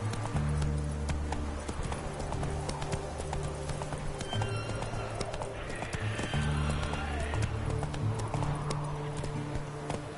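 Roach the horse gallops in The Witcher 3 on the Islands of Skellige, with steady rapid hoofbeats and a whinny over a constant low game soundtrack, the pounding rhythm continuing for the whole stretch.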